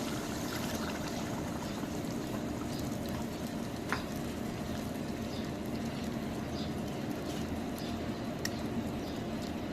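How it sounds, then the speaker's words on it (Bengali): Boiling water pours steadily into a pot of meat curry with a constant watery rush and bubbling, and a couple of faint clinks along the way. "গরম পানি দিয়ে দিছি, ফুটন্ত গরম পানি।"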